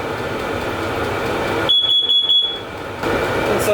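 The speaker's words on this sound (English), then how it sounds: "Carbon monoxide detector." A carbon monoxide detector sounds a short test alarm near a VEVOR diesel heater: a loud burst of rapid, high-pitched pulsing beeps lasting about a second over a steady mechanical hum.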